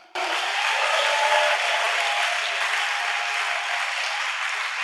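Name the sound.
congregation applauding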